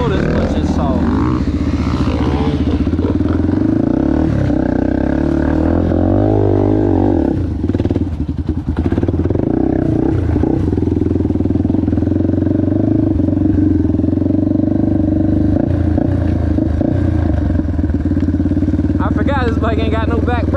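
A Chinese 230 pit bike engine runs loud and close through a test ride, revving and straining with rattling clatter, the droning note rising and falling throughout.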